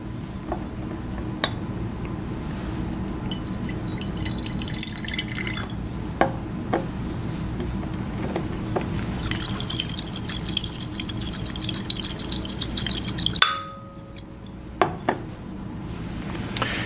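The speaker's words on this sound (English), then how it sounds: "If I take some of this beautiful, clear lime water and pour it into this flask which has collected the gas from the candle" Clear lime water is poured into a glass flask that holds gas collected from a burning candle, giving a steady trickling, splashing pour with clinks of glass before the stream stops and a few drips follow.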